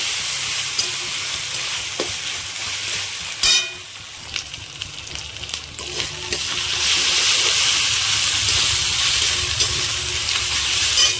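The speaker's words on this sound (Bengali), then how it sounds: "একটুখানি ভালো করে আদা রসুনের পেস্টটা কষিয়ে দেবো।" Ginger garlic paste fries in a pan with a loud, close sizzle that swells in the second half, punctuated by sharp ladle scrapes and knocks, no voices.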